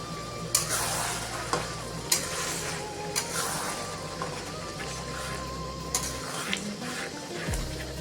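A spoon scrapes and stirs beef and potato curry in a pan after mutton masala is added, with steady low sizzling beneath and sharp clinks of metal on the pan every second or two.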